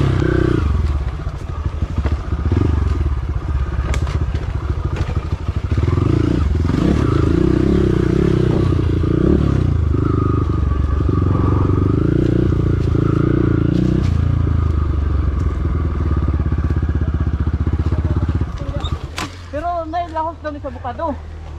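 A motorcycle with a stiff, newly sprung clutch labours uphill on a steep dirt site, its engine droning loudly and steadily with clattering, then easing off near the end as a voice speaks.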